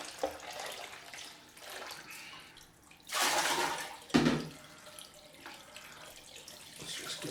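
Running tap water rinses a chrome safety razor after a head shave: a quiet background hiss, then a louder gush of water for about a second with a brief splash, fading back to a low trickle.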